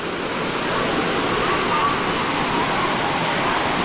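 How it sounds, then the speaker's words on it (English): A waterfall in Nuwara Eliya, Sri Lanka, giving a steady, loud, broadband rush of falling water that stays even and unbroken throughout, with no voices. "there's a waterfall as well"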